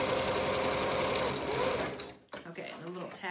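A sewing machine runs loud and close, tacking the end of a knit seam in a continuous whir that stops abruptly, followed by softer handling noises.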